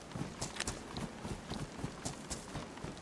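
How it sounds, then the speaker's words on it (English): Quiet footsteps in DayZ with a steady, evenly paced run of soft thuds set against faint background noise. "I heard a footstep."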